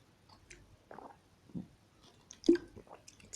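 Someone drinking water, with faint, scattered sips, gulps and small wet mouth sounds at close range in a quiet room.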